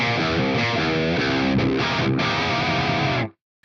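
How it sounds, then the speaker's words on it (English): A PRS electric guitar tuned to drop C rings through an Atomica High amp model with distortion, a thick sustained stream of chugging riffs and held notes that cuts off abruptly near the end. "I'm playing my PRS in drop C."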